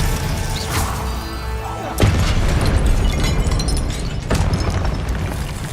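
Spell effects crash and burst in a Hogwarts wizarding video game, dense booming impacts with sharp hits at intervals over a constant roar of game noise.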